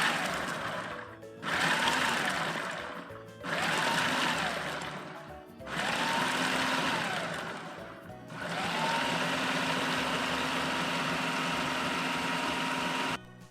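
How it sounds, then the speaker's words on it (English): Electric mixer grinder whirring as it pulses chickpeas with salt and lemon juice into a coarse paste, loud motor bursts in short pulses with brief dips, then one longer steady run. "Now I'm going to grind this into a coarse paste."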